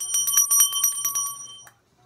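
A small bell, like a bicycle bell, is rung quickly about a dozen times in a bright metallic trill close by, then one last ding before it falls silent.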